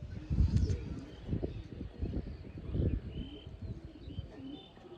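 Pigeons coo softly amid low rustling and faint flutter, with a few distant chirps in the background; the scene stays fairly quiet.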